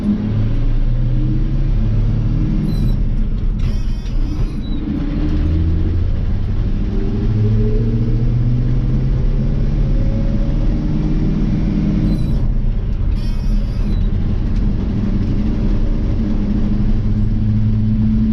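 An old 1985 C30 pickup dump truck engine rumbles steadily while driving, low and loud, its pitch rising and falling through gear changes, with faint rattles on top.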